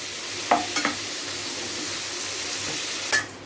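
Chicken wings frying in a pan and being turned over, a steady loud sizzle with a few brief scraping and clinking touches of the utensil near the start and end, no voices.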